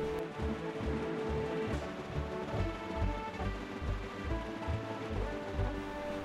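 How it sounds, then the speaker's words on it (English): Rain falls during sailing in The Legend of Zelda: The Wind Waker, a steady soft hiss of rainfall over a rhythmic low rolling pulse, faint and continuous with a high tone running across it. "Oh, it's raining now."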